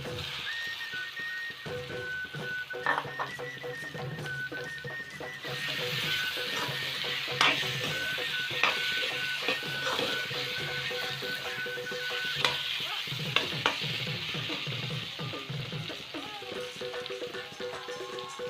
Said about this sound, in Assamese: মছলাখিনি ইয়াত মই ৰঙচুৱাভাৱে ভাজি লৈছোঁ